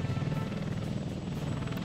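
Helicopter rotor and engine drone from the city-building game Workers and Resources: Soviet Republic, a steady low thrumming hum that holds evenly throughout with no talk over it.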